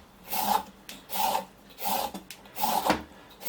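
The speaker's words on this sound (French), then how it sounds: "bien sûr, éplucher mes carottes." Carrots are peeled with a peeler in four rhythmic rasping strokes, each a short scraping burst, close up and clear with no talking.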